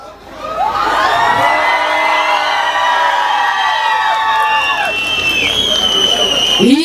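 A crowd at a live Turkish folk music concert shouts, whistles and cheers loudly and continuously for several seconds, a dense wall of voices close and full.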